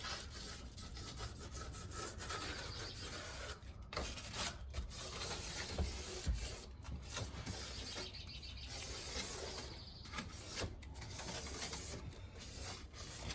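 Sandpaper rubs by hand along the grooves of a painted door, a close, rasping scrape in repeated strokes with brief pauses between passes.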